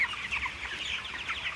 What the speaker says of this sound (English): I'm covered in chickens right now.